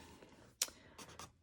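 A normal pen writes on black paper in a few short, quiet scratching strokes, one sharper scrape followed by two brief softer ones, close up.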